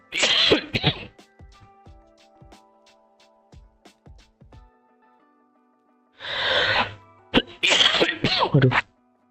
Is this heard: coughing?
yes